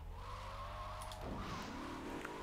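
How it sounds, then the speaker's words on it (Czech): The Mafia Sentinel car in GTA III drives along, a quiet low engine hum that shifts pitch midway as it changes speed, faint and steady. "Mafiánský Sentinel se jmenuje tohle auto."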